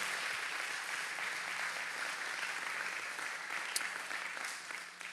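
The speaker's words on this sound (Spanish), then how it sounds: "quiero que tomen este momento nada más para darle un aplauso a todos los padres que están aquí en esta mañana" A church congregation applauds the fathers during a morning service, producing a soft, distant, even wash of clapping that holds steady for several seconds before tapering slightly.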